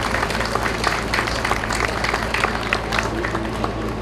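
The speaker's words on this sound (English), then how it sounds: "So a great round of applause for all of the support and the hard work and putting those events together." A crowd claps at the Day of Portugal festival opening ceremony, an even wash of outdoor applause over a low steady hum, continuing without a break.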